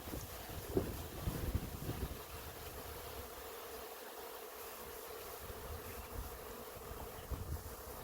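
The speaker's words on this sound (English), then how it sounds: "There's still quite a few bees in the air" A honey bee swarm in progress buzzing through the air near a tree branch, a faint continuous hum mixed with wind noise on the microphone, with occasional louder passes.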